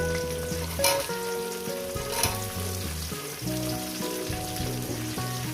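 Cumin seeds and onions frying in hot oil in a pan for a chicken curry, a steady sizzle running throughout beneath prominent melodic background music.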